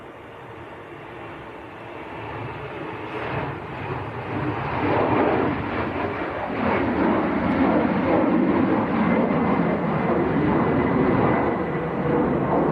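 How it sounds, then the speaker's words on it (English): An Air Portugal Embraer jet bound for Lisbon starts its takeoff roll at Manchester Airport, a broad engine roar that builds steadily from moderate to loud and holds at a distance. "We have a departure, just starting the roll, which should be the Air Portugal"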